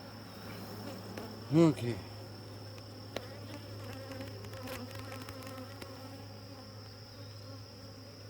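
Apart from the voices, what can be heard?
honey bees buzzing at a hive being tended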